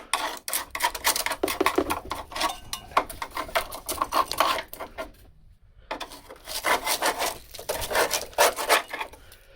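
Rough, rasping scrapes of a cheap hand scraping tool against the rusted sill of a Corsa B Combo van, in fast repeated strokes close by, with a brief pause in the middle and no talking.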